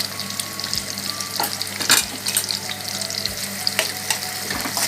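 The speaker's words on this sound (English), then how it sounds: "You can see the onions is frying." Onions frying in a pan for a pepper sauce make a steady, close sizzle with scattered sharp crackles and pops throughout.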